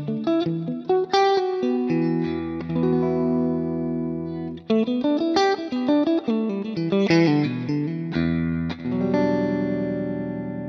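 An electric guitar plays a clean tone through an Axe-FX amp modeler with light saturation drive, picked notes and chords ringing clearly and sustaining, played alone with no talking.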